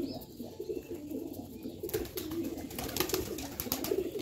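Pet pigeons cooing softly at home, low murmuring coos repeating under a hissy, faintly noisy background, with no talk.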